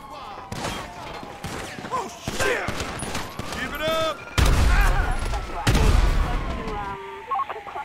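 Gunfire rings out in GTA V: sharp, loud bursts and volleys of shots pile up, mixed with shouted character dialogue and electronic beeping tones.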